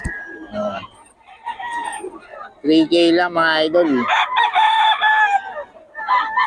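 A rooster crows loudly and close by in one long drawn-out call at a poultry market in Bocaue, Philippines, while someone talks before and after it and other fowl cluck.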